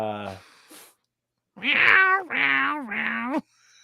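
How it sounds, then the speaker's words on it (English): A cat gives three drawn-out meows in quick succession, loud and close, after a brief burst of other sound and a short pause. "Oh, that's a cute cat."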